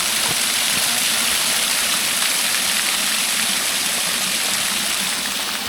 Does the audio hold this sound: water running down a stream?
yes